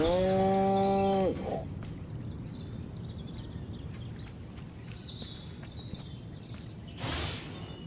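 A cow in the Destroy All Humans! remake lets out one long, loud moo, followed by softer bird chirps and a brief hissy burst near the end.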